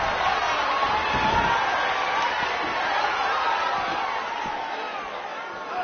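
A sold-out, record-setting crowd at a BCW wrestling event roars and cheers in a dense, continuous wash of noise that fills the whole clip.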